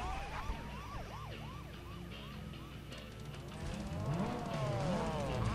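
A police siren in the racing game Need for Speed: Most Wanted wails in quick repeating sweeps over a constant car engine drone, and a second, lower sweeping siren joins toward the end.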